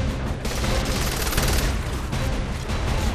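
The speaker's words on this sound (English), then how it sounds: "I'm gonna shoot the fuck out of this one." Dense, continuous automatic gunfire from Saints Row The Third, a loud unbroken rattle of shots with no pauses across the whole stretch.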